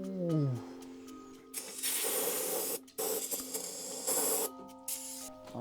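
Cleaner sprays in several loud hissing bursts into a car's dirty engine cylinders, each spray separated by short pauses, with a faint tonal whine at the start.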